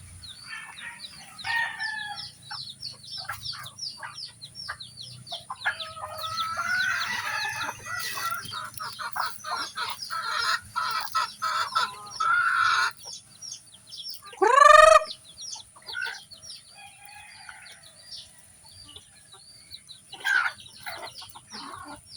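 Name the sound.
mother hen with her chicks clucking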